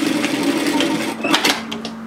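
Sewing machine running a straight seam through to the hem of a Carter shacket garment, a steady close mechanical whir with brief louder clicks near the end.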